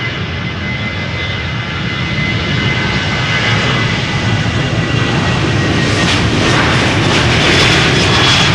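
A KLM Boeing 737 departs Amsterdam Schiphol Airport, its jet engines a loud, sustained roar that builds and brightens steadily as the aircraft powers up close by.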